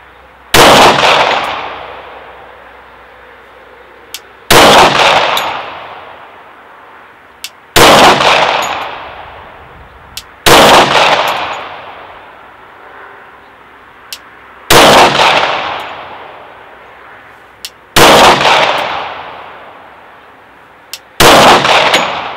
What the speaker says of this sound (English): I'm going to be using this Gen 4 Glock 30 chambered in 45 ACP